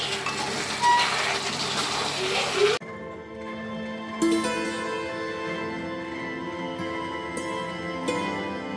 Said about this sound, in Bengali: সুপার স্পিডে এদের লুচি বেলা হচ্ছে, আমি ভেজে উঠতে পারছি না।